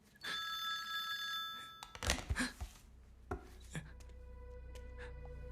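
A mobile phone ringing with an incoming call in a dubbed Kannada film scene, a bright electronic ringtone near the start, then clattering knocks, and the tone returning faintly toward the end.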